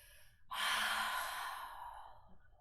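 A slow, breathy exhale swells after a quiet pause and gently fades, close and soft, during a gentle yoga session with no speech.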